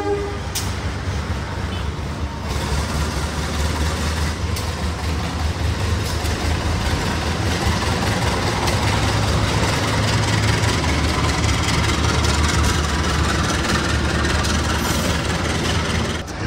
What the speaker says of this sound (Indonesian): ini kelihatannya ada kereta lokal nih yang baru berangkat